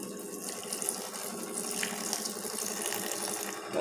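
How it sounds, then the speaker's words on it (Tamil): Water runs steadily from a tap into a grinder jar of ground peanut chutney, a continuous close gushing splash with no voices. "இப்போ நம்ம தண்ணி சேர்த்திக்கலாங்க."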